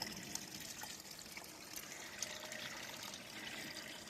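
Water runs steadily down a rocky waterfall feature at an outdoor RC park, a continuous broadband trickling and splashing wash heard at moderate distance with no voices over it.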